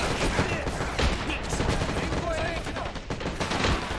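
A 20mm gun firing in the Men of War: Assault battle for Iwo Jima, a steady, dense roar of heavy gunfire with overlapping shots that continues without a break, along with voices.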